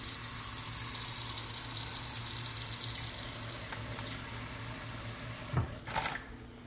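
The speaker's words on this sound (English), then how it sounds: "Go ahead, run the water." Tap water running steadily from a faucet into a sink in a home kitchen while fish is bagged for freezing, a constant hiss with a few clattering bumps near the end.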